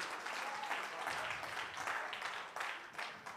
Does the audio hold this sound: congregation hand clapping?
yes